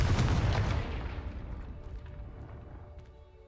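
A Confringo spell explodes in Hogwarts Legacy with a loud booming blast at once, its rumbling tail fading away over a few seconds.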